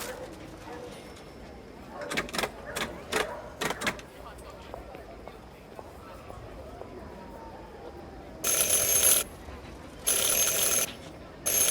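A doorbell rung at a door in Syberia 4: a few sharp clicks, then two long, bright buzzing rings close by.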